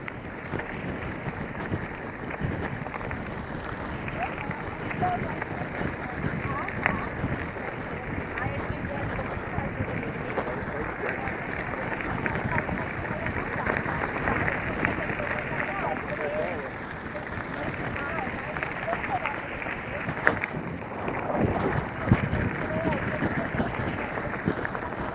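Steady broadband wind rush buffets the microphone throughout a road bike ride of about 32 km between Bebedouro and Areias in São Paulo state, loud and continuous, with brief speech heard.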